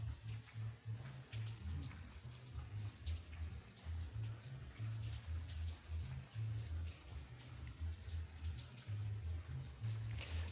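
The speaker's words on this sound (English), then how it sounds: "I'm surprised that you can hear those raindrops, that water. Yeah, but it is coming down." Steady rain falling on Christmas Day in Spain, a constant outdoor patter of drops with scattered closer drips, moderately faint and continuous with no talking.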